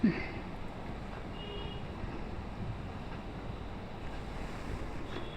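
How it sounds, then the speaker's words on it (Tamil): Vadacurry gravy bubbles at a steady boil in a pot, a continuous soft hiss and crackle with no pauses and no voices. "இப்போ குழம்பு நல்லா கொதி வந்துடுச்சு பாருங்கள்."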